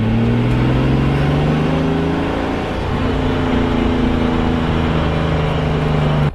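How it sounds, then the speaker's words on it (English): A boosted car with an MS43-tuned engine pulls hard in third gear, its engine note rising steadily and loudly up through the revs, with a brief dip in the middle of the pull. "I'm going to quickly just get into third and then a little bit more throttle."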